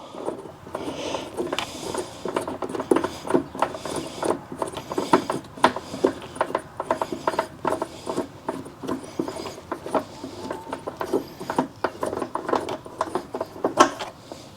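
Scissor jack holder being unscrewed inside a 2025 Ram 1500 Hurricane, giving close, steady ratcheting and rubbing clicks with a rough, continuous texture throughout, no talking.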